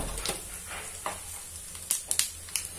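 Asafoetida dropped into hot oil for a Maharashtrian usal-style dish, giving a soft steady sizzle with a few sharper crackling spikes near the end, close and without talk.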